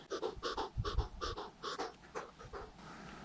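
Heavy, rapid panting breaths right after an ice swim in freezing water, a close, rhythmic run of gasping inhales and exhales that tapers off toward the end.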